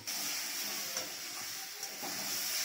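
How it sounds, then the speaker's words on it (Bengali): Tomatoes frying in a hot wok (kadai), a continuous close hiss and sizzle with a couple of faint clicks, no voices. "এবার টমেটো চলে গেল কড়াইয়ের মধ্যে ভাজা হতে।"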